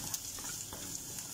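Potatoes being stirred in a frying pan while cooking breakfast, a soft steady sizzle with faint scraping taps running throughout, no talking.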